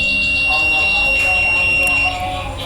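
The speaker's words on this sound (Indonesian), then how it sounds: "Itu power supply-nya bunyi." Steady high-pitched electronic beeping from a power supply while a Nokia 215 phone with a no-power fault is tested, a continuous piercing tone lasting throughout with faint background noise.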